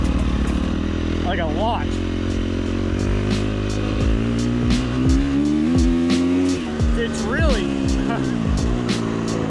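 A motorcycle running a Tokyo Mods Vortex ECU map, its engine revving and dropping with pronounced deceleration, loud and close, with a rider talking over it and another engine passing by.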